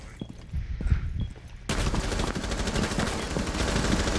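Enemy gunfire in Rainbow Six Siege on the Kafe map starts abruptly and keeps going as a loud, rapid automatic burst for several seconds, close and harsh, after a few quieter thuds.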